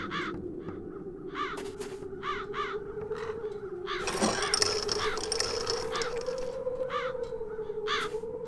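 Crows caw repeatedly in Satinavs Ketten, a rhythmic series of harsh calls near and far over a low droning music bed, with a burst of rustling flapping midway.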